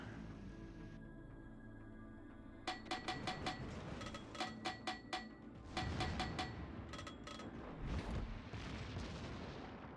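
Warship main guns fire in a naval battle video game, with the Massachusetts shelling the Zara: a rapid series of sharp, loud booms in two bursts over a steady rumbling engine and ambient bed, no talking.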